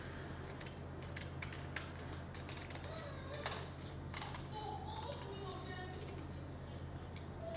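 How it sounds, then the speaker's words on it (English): Scissors snip through a lunch bag pattern piece in a series of short, faint, irregular cuts at close range over quiet room tone. "I'll now use my scissors to cut it off."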